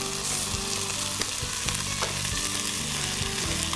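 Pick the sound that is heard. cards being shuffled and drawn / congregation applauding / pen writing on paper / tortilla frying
tortilla frying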